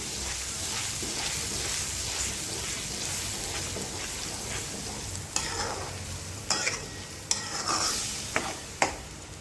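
Masala being stirred into mixed vegetables in a pan: a soft, steady frying hiss, then several sharp, close scraping and clacking strokes of a spoon against the pan in the second half.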